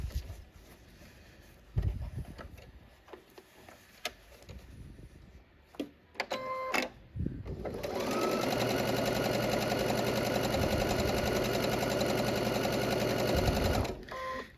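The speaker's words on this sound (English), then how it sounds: "now I'm gonna stitch along the other one" A sewing machine stitches a fabric casing on a Halloween project. Scattered clicks and handling sounds come first, then a steady, close, rapid mechanical whirr runs for several seconds before stopping abruptly.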